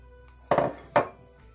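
A spoon stirs sugar into mashed banana in a bowl, giving two short, fairly close clinks and scrapes against the bowl with quiet gaps around them.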